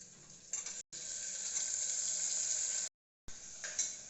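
Sliced onion sautés in a pan, giving off a steady, bright sizzle that runs continuously apart from two abrupt silent breaks, with faint stirring beneath it.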